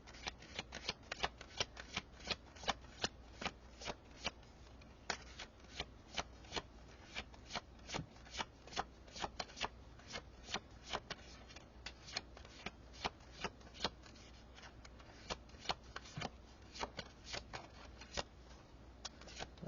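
A deck of tarot cards being shuffled by hand, a steady run of crisp riffling snaps and flicks repeating close up for the whole stretch, with no talking.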